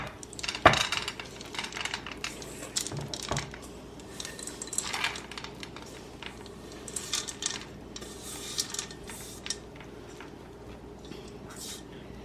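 A spoon scrapes and clinks against a bowl while chocolate chips are stirred into cookie dough, a steady run of soft rubbing and light clatter with occasional sharper knocks.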